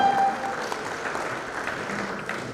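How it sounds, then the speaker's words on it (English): Guests at a women's soccer league dinner in a hotel give a round of applause, even, moderately loud clapping that continues throughout. "let's give him a round of applause for that"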